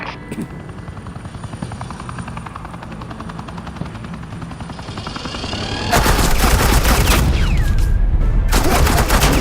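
Sustained machine-gun suppressing fire erupts in Batman: The Enemy Within, loud and dense, layered over a steady helicopter drone that builds through the first half before the bursts hit hard with a brief lull near the end.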